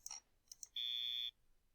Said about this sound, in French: on entend bien un bip qui indique qu'on se trompe.